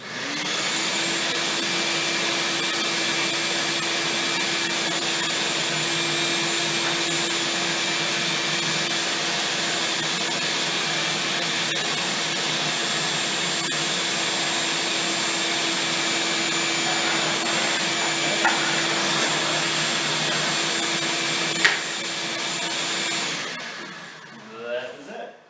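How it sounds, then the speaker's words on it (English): A vacuum runs continuously through a dust collector prototype for about 23 seconds, a loud steady drone with a fixed whine, then cuts off, followed by a few clicks and handling sounds near the end. "Alright, turn the vacuum on."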